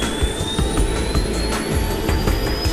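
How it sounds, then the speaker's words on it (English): A jet aircraft's APU and engine roar steadily up close, dense and loud with a rising high whine sweeping upward across the whole stretch. "The APU unit roars into action."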